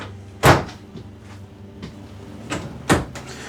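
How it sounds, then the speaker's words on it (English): Sliding closet doors in a 2023 Forest River Sabre 38RLH fifth-wheel RV, giving a few sharp knocks and rolling bumps as the panels are pushed open and shut, close by and on their own. "Then we have some sliding doors here to get you to another big closet area here"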